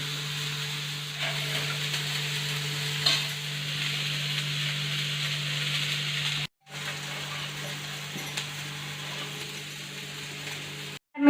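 Oil sizzles steadily in a pan while usal for Adivasi-style misal cooks, a continuous even hiss over a low hum, with one brief dropout and no talking.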